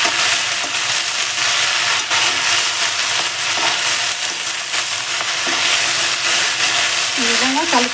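Moringa leaves are stirred and fried in a pan for moringa leaf powder, giving a steady loud sizzle with scraping stir strokes throughout and a brief bit of voice near the end.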